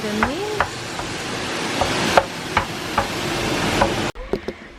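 Food browning in a frying pan for cottage pie, with a constant close sizzle broken by stirring knocks and scrapes of a utensil, and a brief quieter stretch near the end.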